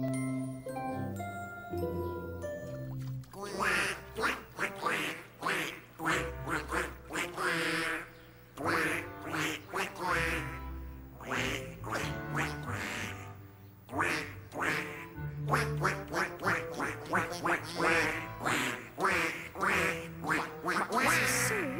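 Ducks quack in a rapid, rhythmic series of loud nasal calls that repeat in bursts with short pauses, set against a musical jingle-like backing, with no talk over them.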